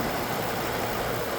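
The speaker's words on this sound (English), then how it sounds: "Nice, quiet engine." A 2011 Ford F-450 regular cab work truck with a V10 engine idles steadily nearby, giving a smooth, even, broadband rumble with no talking over it.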